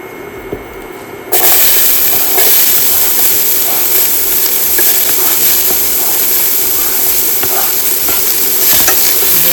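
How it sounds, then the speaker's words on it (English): Onions hitting hot oil for a ground beef shepherd's pie, a loud, steady broadband sizzle that bursts in after a quieter start and holds with light stirring scrapes, close and alone. "Now I want to go ahead and add my onions to my oil."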